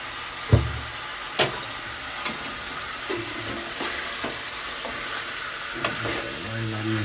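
A homemade chicken pickle mixture stirred and cooked in a pan, with soft simmering sizzle under a series of spaced scraping knocks from the stirring, moderately quiet and close.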